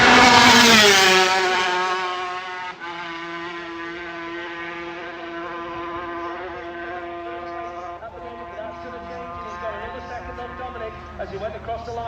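A racing motorcycle at the Manx Grand Prix screams past at high revs, its engine note falling away into a distant, wavering whine as it recedes.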